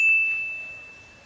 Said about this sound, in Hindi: अबे देख फोन आया, फोन आया।